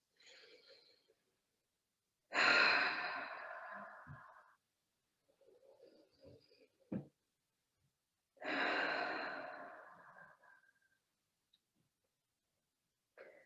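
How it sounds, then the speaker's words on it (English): Two long, breathy mouth exhales during a yoga session, each lasting a couple of seconds and fading out, separated by quiet pauses with faint small sounds in between. "you can exhale through your mouth"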